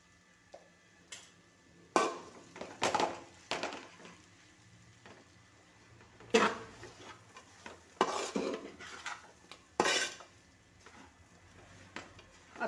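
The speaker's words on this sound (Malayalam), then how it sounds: "മസാല നല്ല ഇഞ്ചി വെളുത്തുള്ളിയൊക്കെ നല്ലതുപോലെ മൂക്കണം" Ginger-garlic masala sautéing for anchovy pickle, quiet background sizzle with several sharp bursts of a spoon stirring and scraping the pan at irregular intervals.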